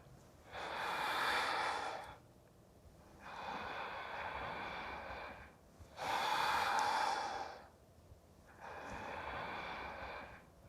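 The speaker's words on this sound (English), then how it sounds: "Continue just a couple more rounds with the sound of your breath." Slow, deep breaths drawn audibly during a yoga exercise for the upper back and neck, four long airy breaths alternating inhale and exhale, close and clear with no talking.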